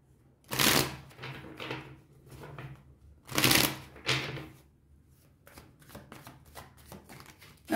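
Tarot cards being shuffled by hand, coming as bursts of crisp riffling and slapping with short pauses between them, close and fairly loud in a quiet room.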